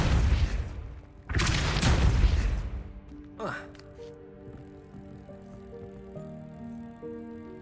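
A Depulso spell cast in Hogwarts Legacy lets out a loud, deep whooshing blast of force, followed by a shorter swooping burst. Sustained magical tones then ring on underneath.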